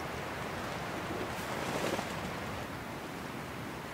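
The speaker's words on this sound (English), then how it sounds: "Well, it's pretty windy." Steady broadband wind roar buffeting outdoors on the stormy coast of Maine, with a wash like surf in the background, constant and fairly loud throughout.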